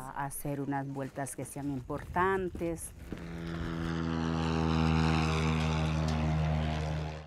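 A DC-3 propeller airplane in the Amazon drones with a deep, steady engine hum that swells and holds after a voice talks over the first few seconds.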